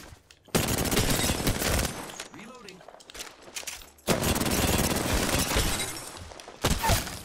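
Gunfire in the video game Apex Legends, with two loud bursts of rapid shots and cracks separated by a quieter gap, then a short final burst, heard close.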